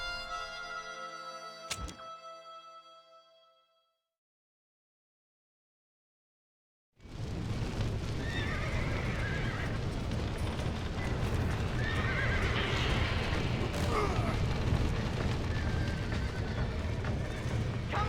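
A horse whinnies loudly in the video game Red Dead Redemption, then after a silence hooves gallop in a rapid, steady rhythm amid busy rumbling activity.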